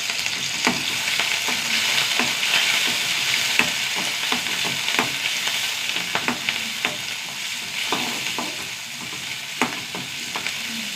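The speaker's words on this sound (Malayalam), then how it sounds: "ഇത് നന്നായി മൂത്ത് വരട്ടെ." Garlic, shallots, a dried red chili and curry leaves fry in oil with a constant crackling sizzle, punctuated by regular spoon taps and scrapes against the pan; no one speaks.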